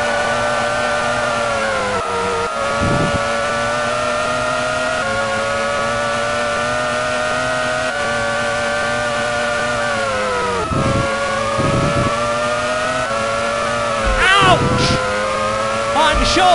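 Formula One race cars on the Adelaide street circuit on the penultimate lap, a steady high-pitched engine whine with a few brief downshift dips and rises, loud and continuous, under a commentator's voice.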